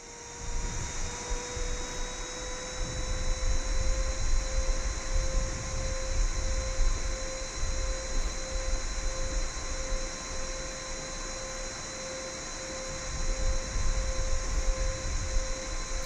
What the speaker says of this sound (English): APU sounds good